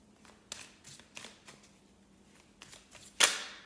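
Tarot cards are handled and shuffled close by, with a series of soft, papery flicks and taps and one sharper snap near the end, heard alone in a quiet room.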